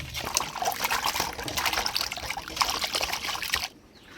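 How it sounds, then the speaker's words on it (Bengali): Rohu fish being scrubbed with salt and washed under running water, a continuous close splashing trickle that cuts off abruptly just before the end. "লবণ দিয়ে মাছটা ভালো করে খসারে ধুয়ে নিই"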